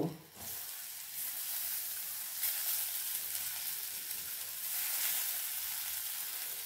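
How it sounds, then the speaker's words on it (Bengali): Raw lentils frying in oil with turmeric: a loud, dense, continuous sizzle that swells and eases as the dal is moved around the pan, with no voices. "প্রথমে আমি এই ডালটা ভেজে নেব।"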